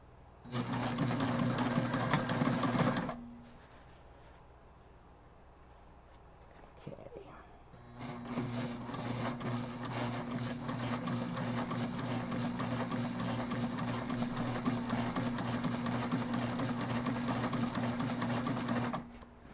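A sewing machine top-stitches a backpack in two runs: a loud, rapid mechanical whir for about three seconds, a pause with faint handling noise, then a long steady stitching run.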